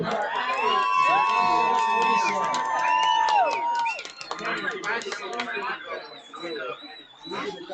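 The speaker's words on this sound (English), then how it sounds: "Let's give them one more big round of applause" A high school football crowd cheers and applauds for the seniors, loud whoops and a shouting roar for about four seconds, then it drops to scattered clapping and chatter. A voice over the PA talks during it.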